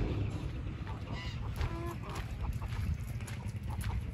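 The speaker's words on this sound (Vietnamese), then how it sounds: "Đây thì được một cái lứa vịt lai ngan, ngan lai vịt này." A flock of Muscovy duck and domestic duck hybrids on a farm in Lâm Đồng, Vietnam, giving raspy honking and quacking calls, several birds close by over steady background noise.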